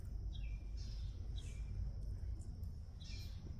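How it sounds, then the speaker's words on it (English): Birds chirp outdoors in short, faint, high calls spaced a second or so apart over a steady background hum. "You could hear all the birds."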